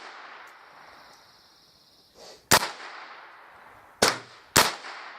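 A pellet gun is fired outdoors, three sharp, loud cracks, a single shot followed by two quick ones close together, with a soft hiss and faint background before them.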